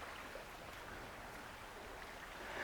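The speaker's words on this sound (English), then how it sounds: "I've got the sound of the beautiful river running by next to me" A river flowing nearby outdoors, producing a steady, soft broadband rush of running water with no other distinct sounds.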